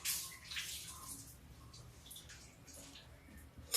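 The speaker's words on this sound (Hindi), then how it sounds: "हाथ धुल लेते हैं।" Tap water runs steadily while hands are rinsed in a kitchen after cleaning the tiles beside the stove, a soft, close trickle and splash continuing throughout with faint drips.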